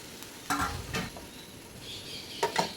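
Green beans for payar thoran stirred with freshly grated coconut in a hot pan: a soft steady sizzle broken by a few scraping strokes of the spoon.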